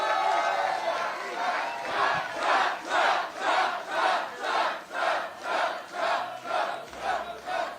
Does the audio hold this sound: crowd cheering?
yes